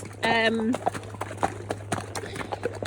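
Horses' hooves clip-clop in an irregular walking rhythm on a first ride out with three newly arrived horses, close and fairly clear, while a person speaks over the opening and a hum runs underneath.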